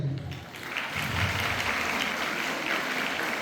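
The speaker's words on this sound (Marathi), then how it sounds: "या ठिकाणी जरूर आपण त्यांच्या या यशाबद्दल टाळ्या वाजवायला हरकत नाही" Audience applause at a Savitribai Phule Jayanti teachers' day event, honoring a student's board exam success; steady, dense clapping fills the room throughout, moderately loud and continuous.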